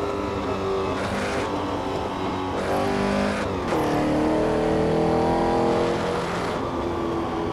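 Engine of a 1964 Porsche 904/8 race car driving the Targa Florio course, heard from inside as a loud, steady drone that revs up and down through gear changes, rising in pitch as it accelerates.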